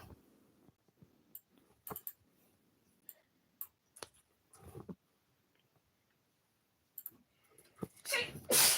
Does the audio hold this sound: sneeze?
yes